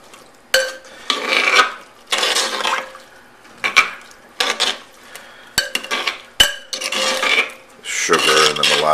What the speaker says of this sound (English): What I'll do now is just stir the ingredients.